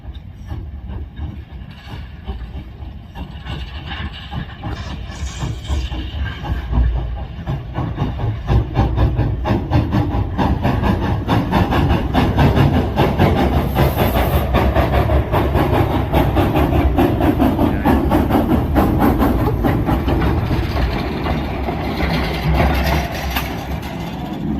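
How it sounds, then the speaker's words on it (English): An old steel mill engine on display at the Youngstown Steel Heritage Museum in Ohio gives a loud, steady rumble with dense rail-like clatter that swells and holds for the whole stretch, with no voices. "it's actually an old steel mill engine on display at the Youngstown Steel Heritage Museum"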